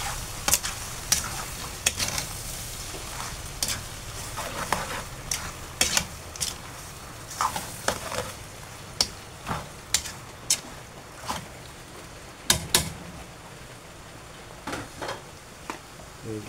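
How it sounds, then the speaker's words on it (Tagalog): A spoon scrapes and knocks repeatedly against a pan while dinuguan, a Filipino pork blood stew, cooks, the irregular clinks standing out over a low steady sizzle, with no voices. "Haluin na natin."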